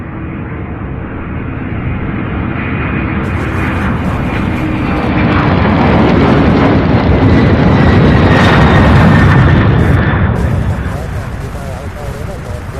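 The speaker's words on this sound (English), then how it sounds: "Another MD-11, you guys. This one heading to, I believe it's Seattle, Washington," MD-11 airliner taking off from Louisville International Airport, a loud broad jet roar that swells to a peak around the middle and then eases slightly, heard at a distance alone with no talk.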